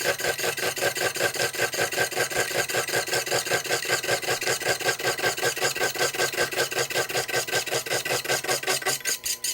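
Slitting saw on a Proxxon FF230 mini mill making a slow pass, a rapid, evenly pulsing rasping squeal of teeth biting metal repeating steadily throughout, alone and close.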